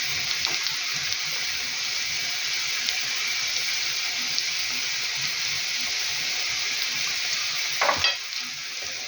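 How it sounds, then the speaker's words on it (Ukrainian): Potatoes and onion sizzle steadily in a hot frying pan, with occasional scraping and stirring and a brief clatter near the end; no one speaks. "А цибуля хай собі смажиться там знизу."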